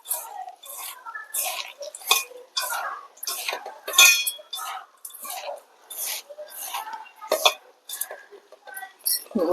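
A spoon clinks and scrapes against a pan over and over in an uneven rhythm as a ghee mixture for dry fruit laddu is stirred, sounding close and fairly loud with no talking.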